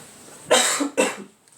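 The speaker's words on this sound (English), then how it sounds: "sorry I keep coughing" Two sharp, loud coughs in quick succession, close to the microphone, followed by a faint throat-clearing trail in an otherwise quiet room.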